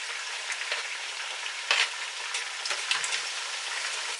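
Chopped green pepper sizzles steadily in a hot pot of oil for a Ghanaian okra stew, a close, even frying hiss with a few brief crackles and stirring scrapes and no talk.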